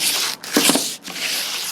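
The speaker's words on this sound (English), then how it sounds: "this is 80 grit sandpaper. I'm going to take this here and just run it back and forth" Coarse 80 grit sandpaper rubbed back and forth by hand over metal body panels of a 1960 Ranchero, a close, raspy scraping in short strokes with brief pauses, no talking.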